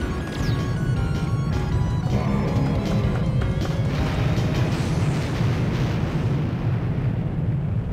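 A bomb blast in the arcade shooter Darius 2: a loud, sustained rumbling explosion roars with dense low-end boom and crackling debris throughout, slowly thinning and fading toward the end.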